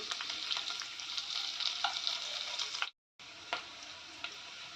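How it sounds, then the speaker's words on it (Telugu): Cashews, almonds, mustard seeds, cumin, curry leaves and green chillies crackle and sizzle steadily in hot oil for egg fried rice, close and bright, with a brief dropout in the middle before the frying resumes. "కాజు వేసుకున్నాను ఇది కొంచెం ఫ్రై ఆవాలు అవ్వాలన్నమాట ఇప్పుడు కరివేపాకు పచ్చిమిర్చి"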